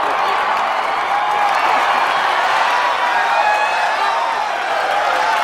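Big crowd at a Sugar Land Space Cowboys baseball game cheering and applauding in a steady, dense roar with scattered whoops, loud and continuous throughout with no pause.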